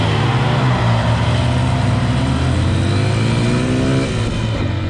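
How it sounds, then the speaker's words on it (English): Several Honda XR150L dirt bikes, small 12-horsepower singles, roar off the line together in a drag race, a loud, steady engine drone that climbs in pitch as they accelerate, with no voices over it. "we also had to do a little drag race, just to make sure our Hondas were all equally matched."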